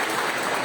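A brief burst of dense, sustained clapping from a church congregation at a Wednesday worship service, heard alone without voices.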